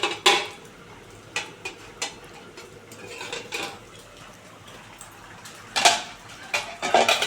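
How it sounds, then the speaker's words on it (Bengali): Metal pot lid lifted off a simmering pot of spicy khayra fish curry in a home kitchen, a few sharp clanks and scrapes of metal against metal scattered over a soft background hiss, close by with no talking. "দু মিনিট হয়ে গেছে ঢাকনাটা খুলে দেখি"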